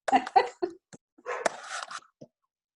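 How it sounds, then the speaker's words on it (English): Several loud dogs giving a string of sharp barks and yelps indoors, the bursts coming close together in a short volley before falling silent. "excuse my loud dogs"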